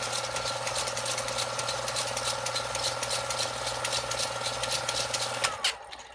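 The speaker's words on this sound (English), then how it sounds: "I can just go ahead and hit rewind here." A Canon PS-1000 CanoSound Super 8 movie projector rewinding film gives a steady, close mechanical whir with a fine rapid clatter and a low hum. It runs continuously for several seconds, then stops abruptly near the end.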